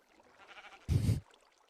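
A single short sheep bleat from the video game Minecraft, loud and close after a faint murmur of background sound.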